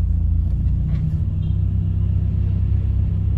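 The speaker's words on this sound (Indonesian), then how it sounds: "Tumataas RPM." A car engine idles steadily at close range with the air conditioning off, its low rumble holding constant as the revs rise slightly while the power steering assist engages; no one speaks.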